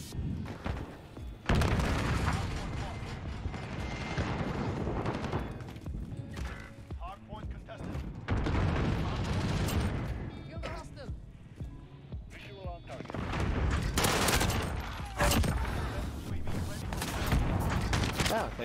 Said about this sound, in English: Oh, they're using fire shotguns!